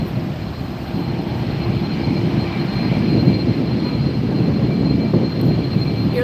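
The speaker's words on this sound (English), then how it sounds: "You're looking at the Aer Lingus Airbus 330-300 series headed to Dublin." Aer Lingus Airbus A330-300 airliner at LAX airport produces a steady distant jet rumble that swells slightly, heard alone without talk.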